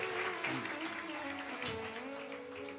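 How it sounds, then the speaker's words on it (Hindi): A large crowd at a live Shiv Mahapuran katha claps hard, a dense, sustained wash of applause heard from some distance and fading slightly toward the end. "जोरदार ताली बजाकर साधु"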